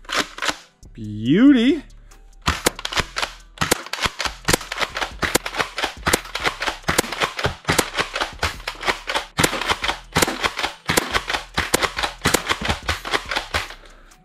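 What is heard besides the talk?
X-Shot toy dart blaster shooting darts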